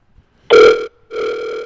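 A telephone rings in two loud electronic bursts separated by a short gap, with no voices over it.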